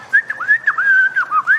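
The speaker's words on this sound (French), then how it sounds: "Pourquoi tu siffles" Someone whistles a quick, warbling tune, close and clear, the notes sliding and wavering in short phrases with no talking.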